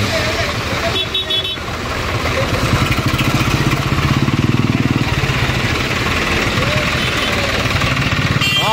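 A tractor ferrying people through floodwater on a waterlogged Mumbai street chugs with a rough, throbbing engine under loud background noise, with a car horn and voices briefly heard near the start.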